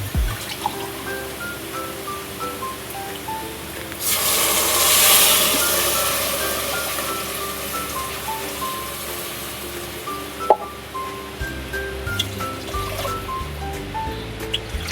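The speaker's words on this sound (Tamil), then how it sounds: "இந்த மாதிரி இதில் தான் இப்போ நம்ம வந்து தண்ணி ஊற்றணும்." Water is poured into a pan of fried onions while cooking ghee rice, a brief rushing pour rising over a quiet kitchen background with small drips and clinks around it.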